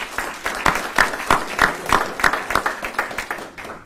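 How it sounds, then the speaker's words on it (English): A crowd applauds at a military promotion ceremony, steady clapping rising and holding for a few seconds before tapering off, with no talk over it. "how about a round of applause for Elliot?"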